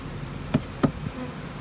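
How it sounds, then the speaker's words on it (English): Dense hum of many bees buzzing in a hive box, a steady close drone with a couple of soft knocks. "Lots of bulk bees."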